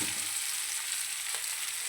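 Cut vegetable stalks sizzling steadily in a hot pan, a continuous hiss of frying with a soft stir near the middle, close and even throughout with no one talking.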